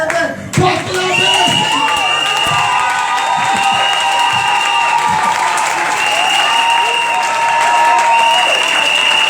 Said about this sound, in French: Est-ce qu'on peut se lever pour acclamer?